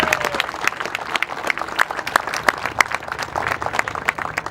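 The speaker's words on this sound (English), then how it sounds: "So give yourself a round of applause." An audience at the grand opening of the Patrick A Tinnell Memorial Sports Complex in Lake Havasu City applauds, a dense, steady clapping that fills the whole stretch without a break.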